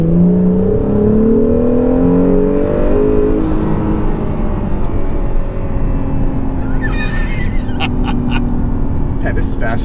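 A cammed C6 Z06 Corvette with a manual gearbox drives and accelerates, its engine rising in steady revs beneath continuous cabin noise, with people talking over it throughout.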